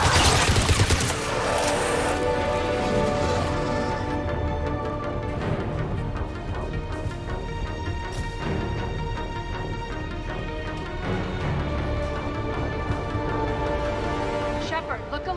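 Mass Effect 3 combat on Omega opens with a loud burst of rapid gunfire, followed by sporadic shots and impacts under spoken lines and a tonal musical score.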